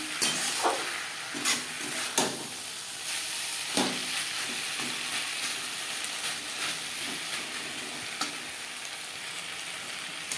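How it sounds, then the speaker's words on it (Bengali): Mixed summer vegetables, including pointed gourd and tomato, are sautéed with spices in a pan over a medium flame, giving a steady close sizzle with scattered stirring scrapes and clinks of the spoon on the pan. "মশলার সাথে সবজি কষানো বেশ ভালোভাবে হয়ে গেছে।"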